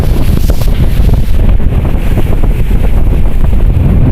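Strong storm wind roars steadily across open rice fields, a loud, continuous buffeting rush with gusty surges battering the microphone throughout.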